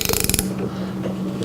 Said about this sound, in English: This is a cheap wrench here. It keeps popping out of ratchet.